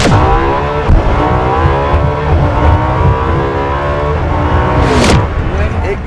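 Ferrari LaFerrari hybrid engine accelerating hard, wheels spinning through the gears: a loud, rising engine howl climbing in pitch, dropping briefly at each shift, with a voice talking over it.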